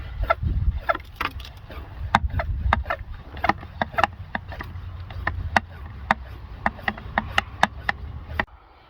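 A garden pressure sprayer being pumped up by hand, a run of sharp rhythmic clicks and thumps at a quickening, slightly irregular pace, close and fairly loud, ending abruptly, with no talking.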